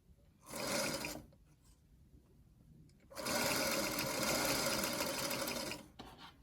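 A sewing machine stitches strips of quilt-block fabric together at a quarter-inch seam. It makes a short run of motor whir, pauses, then makes a longer, steady run of close stitching that stops abruptly.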